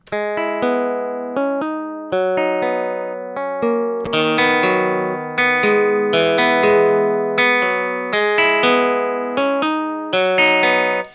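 An unamped guitar plugin in FL Studio plays a plucked melody loop, clean repeated notes in a steady rhythm, with a bar that shifts to a new phrase midway.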